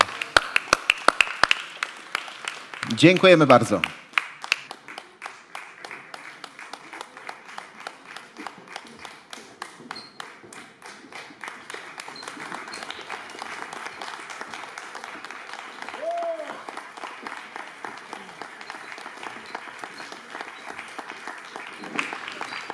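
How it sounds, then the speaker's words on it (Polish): Applause from the audience at the EFEKT 2021 public-speaking championship final gala in Gdańsk's Stary Maneż, a steady patter of clapping that runs through most of the stretch, with a brief spoken thanks near the start. "Raz jeszcze gromkie brawa dla całej prawie że 30,"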